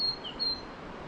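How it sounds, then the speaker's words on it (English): A small bird singing high on a granite tor at Cadworthy Wood, Dartmoor, in May: a few thin, high chirps and short whistled notes, fairly faint over steady outdoor background hiss. "There's a cute bird singing up here."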